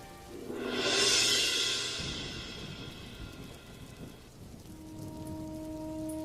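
Monsoon rain pours down in a steady, dense hiss that swells loudest early on, with sustained tonal sounds running over it.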